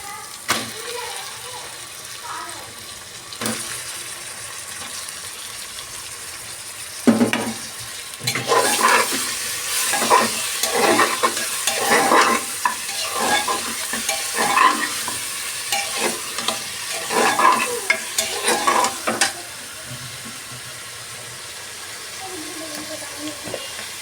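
Mutton frying and being stirred in a pan with browned onion and ginger-garlic paste: steady loud sizzling with rhythmic scraping strokes of stirring through the middle, quieter sizzle at the start and end, with some faint voice.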